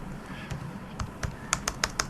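Computer keyboard keys clacking while HTML code is typed, a sparse run of separate clicks that comes faster and sharper toward the end, close and fairly quiet.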